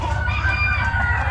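A big laying hen, likely among Blue Laced Red Wyandottes, gives steady low clucks up close over a constant low hum, with no talking.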